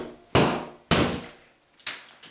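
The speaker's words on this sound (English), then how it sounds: "Just take your hammer, just hit it against the ceiling" A hammer knocking against a ceiling during a home repair job, three heavy resonant thuds spaced about half a second apart, then two lighter knocks, each ringing briefly before fading.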